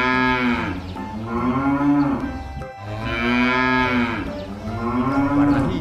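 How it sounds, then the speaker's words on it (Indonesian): A cow gives two long, loud, nearby moos, each a deep drawn-out bellow, with a brief gap between them and no talking. "Wow, ini ada sapi teman-teman."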